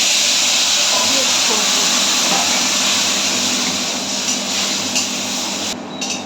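Prawns and a little water hit a hot pan and set off a loud, steady sizzling hiss close up, softening slightly toward the end.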